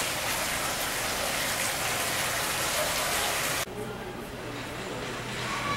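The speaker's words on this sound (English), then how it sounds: "Sound of dropping hot water" Hot spring water splashing down into an outdoor bath at the Dogo hot spring resort in Matsuyama, a continuous close patter like steady rain that dips slightly in level partway through.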